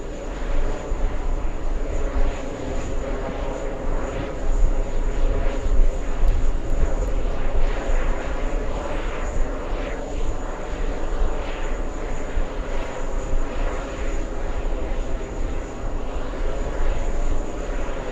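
An airliner arriving on a flight from Paris, France drones steadily overhead, a broad continuous jet engine roar with slight swells in loudness, moderately loud and sustained for the whole stretch without talk.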